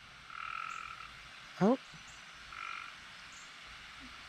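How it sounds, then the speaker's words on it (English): A single frog croaks once in a garden, a short rapid rattling call at moderate distance, set against quiet outdoor ambience with a brief exclamation from a voice. "Little froggy friend is croaking in the background."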